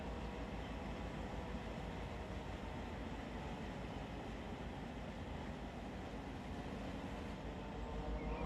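Heavy freight train in the Run 8 train simulator, with DPU locomotives pushing at the rear, rumbles steadily and continuously at a constant, moderate level, with dense low-end drone and no talk.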